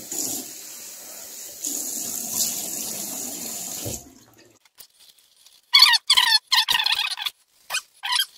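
A tap runs water into a sink for about four seconds as a steady rushing stream, then shuts off, followed by quiet and several short, sharp splashes and clatters at a basin during a wet shave.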